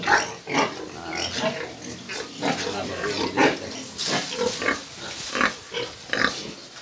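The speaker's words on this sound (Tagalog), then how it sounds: "ito iba-ibang kula baboy." Pigs on a farm in Botolan grunt and oink repeatedly in uneven bursts, close and fairly loud, with several animals overlapping throughout.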